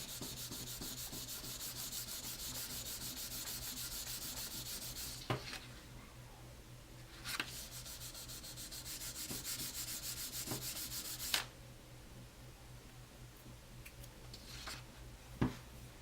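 Fingers rubbing and smoothing a polymer clay pendant, a faint rapid scratchy friction in long strokes with a few soft taps and clicks, quiet and close.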